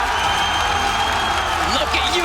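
A large crowd at an Apex Legends ALGS esports event cheering and applauding for Alliance, a loud dense roar with clapping and whoops, while a caster talks excitedly over it.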